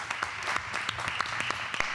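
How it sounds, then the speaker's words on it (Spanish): An audience applauds the guests at the close of a television conference panel, with a brief burst of dense, moderately loud clapping heard from a short distance. "Un fuerte aplauso a nuestros invitados."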